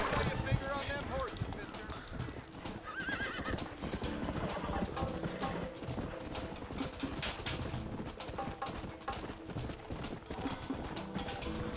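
Horses gallop in the Red Dead Redemption video game, with rhythmic hoofbeats drumming under a dense game soundtrack and a horse whinnying early on.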